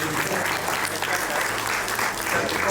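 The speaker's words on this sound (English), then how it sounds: "Give a good round of applause to sir." An audience at a hotel event gives sustained applause, a dense, even wash of clapping from many hands throughout a standing ovation.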